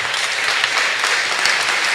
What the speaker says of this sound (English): Clap them. Clap them.